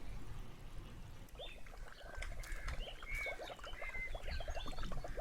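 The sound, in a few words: water flowing through pipes in video game A Wolf in Autumn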